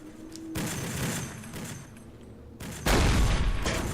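Gunfire hits a submarine deck gun crew in Silent Hunter IV, heard as bursts of rattling shots and impacts, with a louder, heavier burst near the end.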